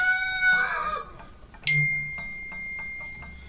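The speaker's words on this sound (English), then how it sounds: "I'm sorry about the rooster, guys, if y'all heard him crowing." A rooster hanging around a jig-making building crows once, fairly near and loud, followed by a bright metallic ding and a few faint clicks in a quiet room, with no talking.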